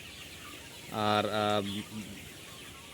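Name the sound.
chickens clucking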